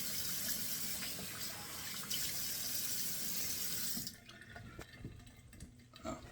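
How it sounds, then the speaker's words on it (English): Cold water runs steadily from a bathroom sink tap, a close, continuous rushing splash that drops to a softer trickle partway through, with a few small drips and clinks; no one speaks. "Kind of get 2 cold splashes of water here out of the sink."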